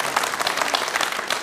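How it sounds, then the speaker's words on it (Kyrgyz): Audience applause at a televised talent show after a boy recites the national anthem of the United States, lively clapping from a crowd rising and falling in quick bursts, fairly loud and without talk. "Кол чабуулар болсун."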